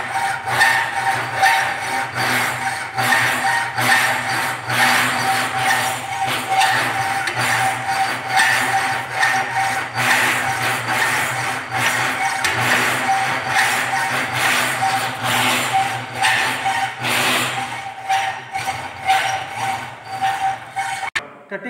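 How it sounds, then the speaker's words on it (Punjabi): Hand hacksaw cutting a mild steel strip clamped in a bench vice, a steady run of rasping back-and-forth strokes continuing for about twenty seconds before briefly pausing near the end. "ਜਿਹੜੀ ਅਸੀਂ ਕਟਿੰਗ ਕਰਨੀ ਆ ਉਹ ਅਸੀਂ ਹੈਂਡ ਹੈਕਸਰ ਦੇ ਨਾਲ ਕਰਾਂਗੇ"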